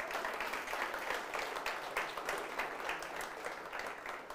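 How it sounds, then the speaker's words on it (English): An audience at an Auckland awards event for New Zealand hi-tech finalists claps in sustained, even applause, many hands blending into a continuous patter heard from a distance and fairly quiet. "Big round of applause to all of them."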